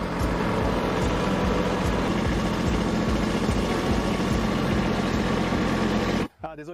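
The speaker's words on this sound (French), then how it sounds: "Laissons Cameron faire marche arrière avec le tracteur." A farm tractor idles while reversing, its engine giving a steady, loud low rumble throughout that cuts off abruptly near the end.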